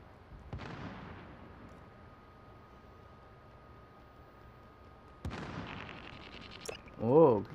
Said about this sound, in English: I can hear people up here shooting